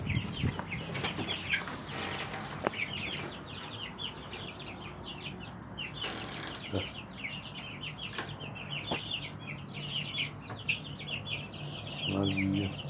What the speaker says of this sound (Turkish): Afrika tavukları, Hint civcivleri